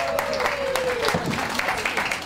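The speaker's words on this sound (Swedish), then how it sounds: "Med en varm applåd, Charita Dagon!" Warm applause from a crowd at a summer party for a marketing association in Halland, a dense continuous patter of clapping lasting a couple of seconds.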